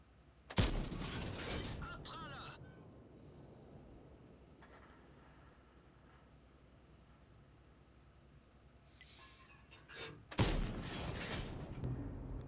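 Tank cannon fire in a video game: two loud booming shots about ten seconds apart, each with a broad crack and rumbling tail, over a steady low engine drone.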